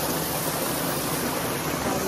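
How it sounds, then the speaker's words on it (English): Waterfall in Minnesota, a steady dense roar of falling water, even and unbroken from start to finish, with no voices. "Came to a beautiful waterfall."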